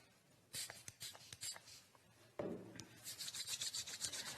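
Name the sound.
hands being rubbed together with sanitizer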